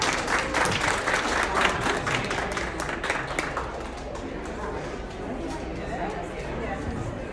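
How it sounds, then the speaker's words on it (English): Audience at a business fair workshop applauding after a talk on AI-powered websites, steady full clapping that thins out into murmuring chatter and scattered voices. "And again, round of applause to Karma."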